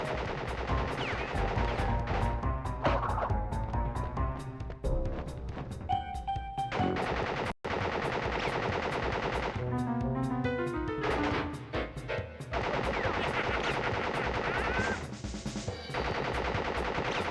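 A Tommy gun fires in the 1996 video game Crash Bandicoot, with fast, evenly spaced automatic shots hammering in long bursts over busy game music, broken by brief pauses.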